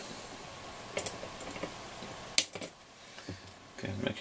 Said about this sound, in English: So I'm just going to snip the legs uh, off of those.